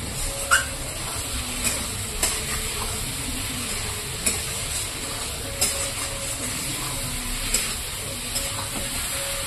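Mixed vegetables being stir-fried in a pan, a soft steady sizzle with regular scraping and knocking of a spatula against the pan every second or so, close and without talk.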